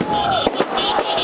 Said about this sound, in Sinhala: විරෝධතාකරුවන් රතිඤ්ඤා දල්වමින් සිය විරෝධය පළ කළා.